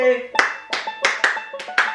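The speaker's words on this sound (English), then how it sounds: "We're doing the clap now." A few people clap hands together in a quick, slightly uneven run of about eight sharp, close claps over two seconds, loud and crisp with no talk between them.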